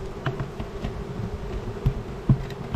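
Honey bees fan at a newly installed package hive, making a steady, faint, low buzzing drone with a few soft bumps close by and no voices.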